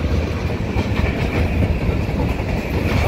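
A CSX freight train gathering speed west of Oxford, with steady loud rumble and rolling clatter of wagons passing close by, continuous throughout.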